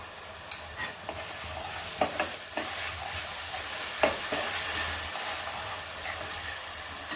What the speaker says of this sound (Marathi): कांदा असा मस्त आपण तेल सुटसर परतून घ्यायचं आहे